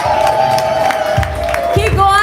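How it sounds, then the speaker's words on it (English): A live crowd at a Chicago performance event claps, whoops and cheers for a performer, with sustained excited shouting and a few voices rising above the room noise. "Y'all clap it up for Kanai"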